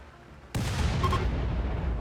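Artillery barrage in the Rimworld video game: after half a second of quiet, a loud sustained blast of booming gunfire rolls on steadily to the end of the clip, with no talk over it.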